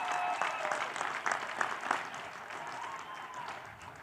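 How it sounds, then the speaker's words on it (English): University commencement crowd applauds in a large outdoor setting, a dense wash of clapping that is moderately distant, swelling early and then slowly thinning out. "It's applause line."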